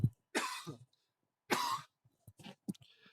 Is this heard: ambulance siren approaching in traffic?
no